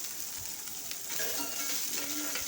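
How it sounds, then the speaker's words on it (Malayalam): Chopped green chilies and sliced onion sauté in a pan, a steady low sizzle with faint stirring scrapes running through the whole stretch, no voices. "രണ്ട് പച്ചമുളക് അരിഞ്ഞതും ഇട്ട് വലിയ ഉള്ളി അരിഞ്ഞതും ഇട്ട് ഇളക്കി ഒന്ന് വഴക്കിയ ശേഷം"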